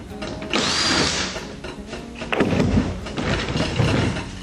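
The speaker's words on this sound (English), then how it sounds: "Unscrew this jiffy clamp." Close metal-on-metal clicks and scraping as a jiffy clamp is unscrewed on a water stove domestic water coil, in short bursts with a louder clatter around the middle.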